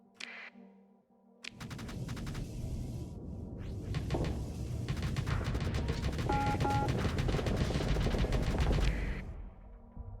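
Rapid bursts of gunfire from a space video game, dense repeated shots piling up into a loud, sustained barrage for several seconds before tapering off, with a few clicks at the start and no speech.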